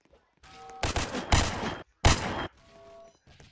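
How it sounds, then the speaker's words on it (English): Gunshots in the Roblox game The Streets ring out in a few loud, close bursts separated by brief pauses. "I'm gonna shoot him in the air"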